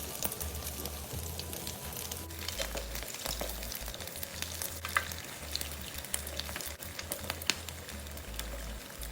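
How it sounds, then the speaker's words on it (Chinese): Glutinous rice rolls deep-fry in hot oil with a steady, soft sizzle and crackle over a low hum. The sound continues without pause and no one speaks. "油炸至糯米卷金黄色后即可离火。"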